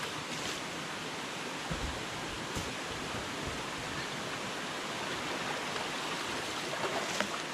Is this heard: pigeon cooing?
no